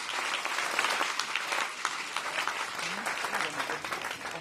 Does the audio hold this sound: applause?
yes